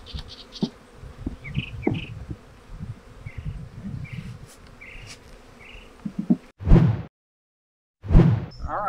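Honey bees buzzing around newly installed nucleus hives outdoors, a continuous close drone with individual bees zipping past, followed by a few loud rustling whooshes near the end.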